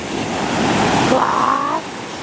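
Sea waves breaking on a beach in Spain, a loud close roar of surf swelling and then washing back, with a faint voice briefly audible beneath.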